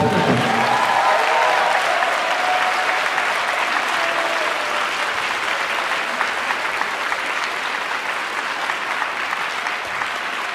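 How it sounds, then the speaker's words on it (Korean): A concert audience at a youth orchestra performance claps loudly and steadily, dense sustained applause filling the hall for about ten seconds. "박수를 더 부탁드립니다."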